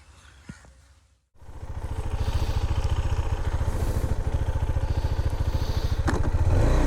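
A KTM 390 Adventure X motorcycle starts up after a brief quiet moment, then runs with a steady, close, pulsing engine thrum that grows slightly louder as the ride gets underway, with no speech.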